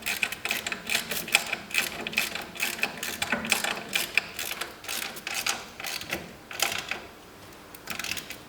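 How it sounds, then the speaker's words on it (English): Nuts on a brush clamp plate being tightened down, giving a steady run of quick metallic ratcheting clicks in short bursts with brief pauses, close and fairly quiet, with no talking. "you can go ahead and tighten down all of the rest of the nuts so they're nice and secure"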